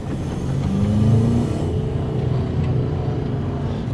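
A Subaru with a low-power fault, running better after repair, revs up during a test drive; a steady engine drone rises in pitch and then holds at a constant level, heard close.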